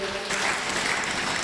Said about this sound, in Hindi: और पूरी डेजर्ट एडी टीम के लिए बहुत सारी तालियां